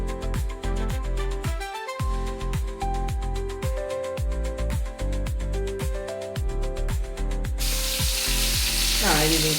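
Okra (ladyfinger) pieces for a Kerala-style fry land in hot oil near the end and give off a loud, steady sizzle under music, after long stretches of music.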